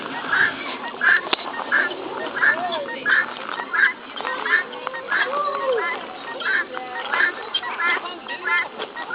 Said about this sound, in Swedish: De har lite konsert, de här fåglarna.